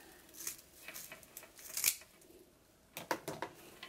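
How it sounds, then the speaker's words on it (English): Scissors snip through deco mesh on a fall wreath, a series of short sharp cuts close by with brief pauses between. "And then just cutting away the excess."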